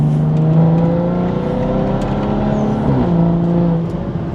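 A car fitted with an xHP tune pulls hard in Sport mode along a quiet back road, the engine droning loud and close with a rising, steady pitch, one brief shift-like dip near the end, and no talking.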